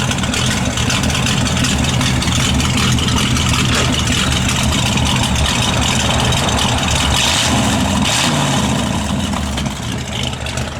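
A 1930 Ford Model A sedan's engine idles loudly and close by, a steady uneven chugging rumble that continues throughout with only slight changes in pitch.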